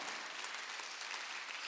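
A church congregation applauding during a Korean Thanksgiving Sunday worship service, steady broadband clapping throughout at moderate distance with no voices.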